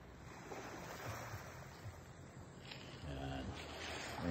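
Waves wash steadily onto the shore at Laylay Port in Boac, Marinduque, at night, a faint continuous surf with a louder swell near the end and light wind noise.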